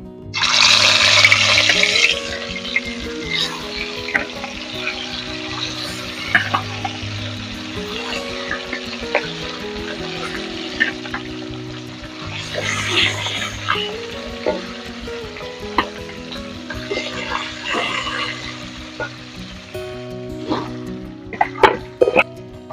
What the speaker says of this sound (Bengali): তেলটা গরম হয়ে গেছে, মাছগুলো ভেজে নিচ্ছি।